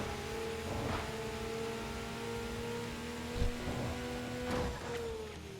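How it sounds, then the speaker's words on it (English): A regular-sounding car engine from the Alpha in a video game, droning steadily at moderate level with a steady whine and slight pitch shifts, plus a couple of brief thumps. "The Alpha just sounds like a regular car."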